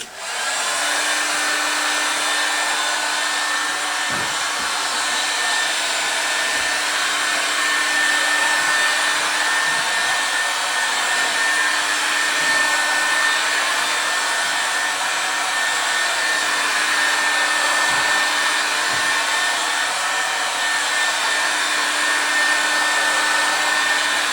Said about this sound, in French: Et on va chauffer le matériel pour bien tensionner.